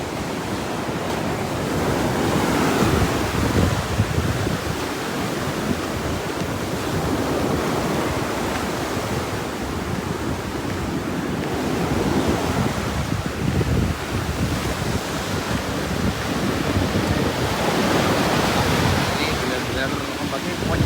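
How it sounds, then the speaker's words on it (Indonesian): Strong ocean waves break steadily on a white sand beach, a dense, continuous roar of surf with gusty wind buffeting the microphone throughout and no pauses between swells. "Ombaknya kencang ya teman-teman ya."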